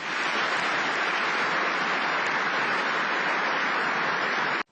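Thunderous, unbroken applause fills a Communist Party session in an old archive recording, a dense hiss-like wash of many hands at steady loudness that cuts off abruptly at the end.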